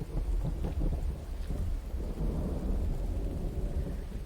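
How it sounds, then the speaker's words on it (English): Steady heavy rain pours in the video game The Infected while deep thunder rumbles and rolls loudly throughout, with no voices. "Walk through some thunderstorms."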